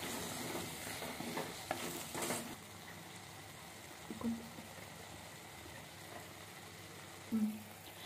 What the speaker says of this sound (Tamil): இப்போ பாருங்கள், மிளகாத்தூள்லாம் நல்லா வதங்கி அதோடைய பச்சை ஸ்மெல்லாம் போய் எண்ணெய்லாம் நல்லா பிரிஞ்சு வந்திருக்கு